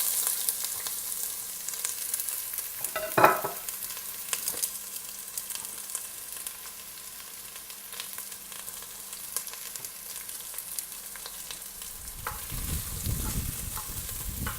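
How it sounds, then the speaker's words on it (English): Onions dropped into hot olive oil in a pot give a sustained, steady frying sizzle, with a sharp burst as they land and a brief stir, then continuous crackle throughout with no talking. "Now it's time to add those lovely onions."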